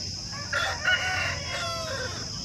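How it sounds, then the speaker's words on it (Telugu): A mature Parla breed rooster, heavy and about two and a half years old, crows once at a village poultry market, the call close and loud with no talk over it. "ఇది వచ్చేసి పర్లా జాతికి సంబంధించినటువంటి పుంజు అండి"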